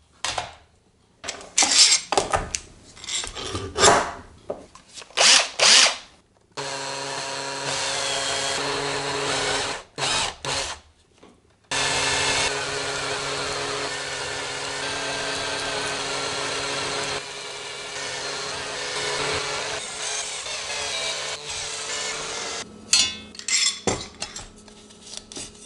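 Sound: conical step drill bit drilling front panel holes

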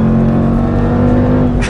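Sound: Jaguar F-Pace SVR 5-liter supercharged V8 engine

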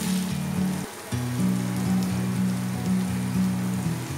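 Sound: spices frying in a pan for cauliflower curry

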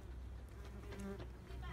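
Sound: bees buzzing

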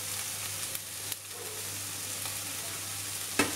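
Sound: peppers and onion sautéing in a frying pan

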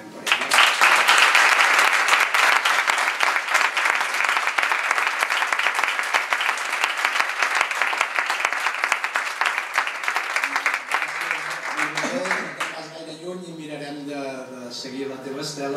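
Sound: audience applause at award ceremony

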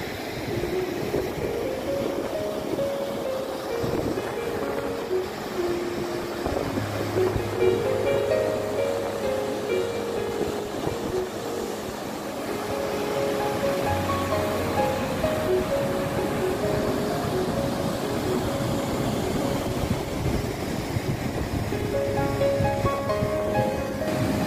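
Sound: Rewa Kyoti waterfall

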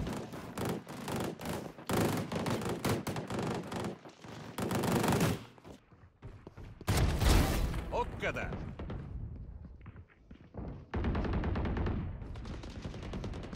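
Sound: gunfire in a video game

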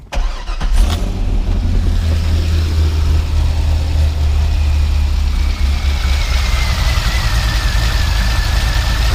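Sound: Corvette C5 Z06 engine idling with titanium axle-back exhaust

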